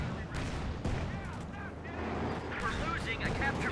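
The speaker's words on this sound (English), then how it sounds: "Both Panther 4s opening up with the 75mm guns." Panther IV tanks firing their 75mm guns in a Company of Heroes 2 battle, heavy booming shots over a dense rumble of game combat, with a commentator talking throughout.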